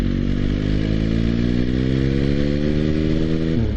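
A motorcycle engine changes down gears on the road, the revs climbing and settling in a rising drone with wind rush, close and loud with no talk.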